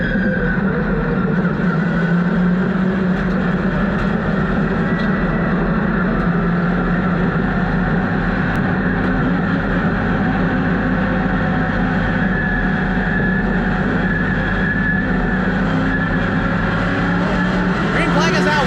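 Limited late model race cars at Hickory Motor Speedway roar in a loud, continuous drone of engines from several cars running together. An announcer's voice talks over the sound throughout.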